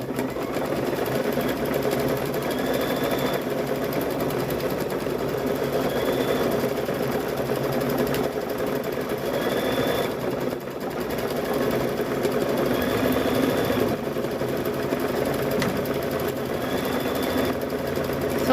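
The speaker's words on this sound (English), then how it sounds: "We are going to start quilting here." A sewing machine quilting a purple apron runs nonstop with a steady mechanical whir and rapid stitching rhythm, close and even, with faint beeps repeating now and then.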